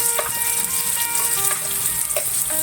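Onion added to ginger browning in a pan for ginataang kalabasa with prawns crackles and sizzles loudly, with brief scrapes and clinks of stirring over the steady hiss.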